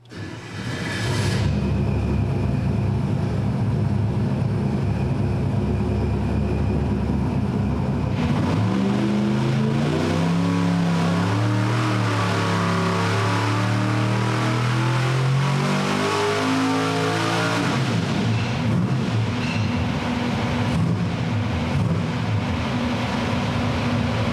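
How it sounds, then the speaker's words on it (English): A supercharged small-block Ford V8 on a dyno roars loud and close, climbing through a long sustained pull with a rising engine note, then holding at high revs with no talk. "So, anyways, let's get to letting Kyle dyno this thing."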